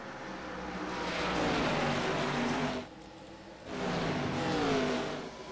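Stock race cars roar around Bristol in a MARCA Racing Series race, engines loud and close in a sustained rising drone that dips briefly as one pack passes, then swells again with the next.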